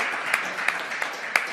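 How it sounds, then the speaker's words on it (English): An audience at a federal funding announcement for the Prince Rupert water system claps sparsely, with a few crisp claps spaced at regular intervals over a steady room hum. "Applause."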